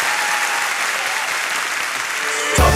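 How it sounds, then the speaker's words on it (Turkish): Studio audience applause for Büşra Pekin on a Turkish TV show, a dense, steady wash of clapping held at an even level throughout, swelling a little louder at the very end. "Alkışlar Büşra Pekin'e."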